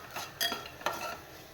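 Vari (barnyard millet) roasting in a pan while being stirred: a few quick scraping, rattling strokes of a spoon against the pan over a faint dry sizzle, close and moderately loud.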